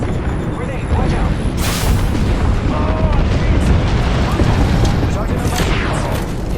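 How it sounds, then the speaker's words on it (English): A grenade blast in the Apex Legends battle royale game, a loud booming burst with a sharp crack near the start and rumbling fire and effects around it, under a player's voice calling out. "Grenade, watch out."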